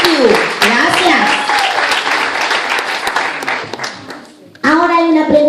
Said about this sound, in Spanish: Un aplauso a mis amiguitos.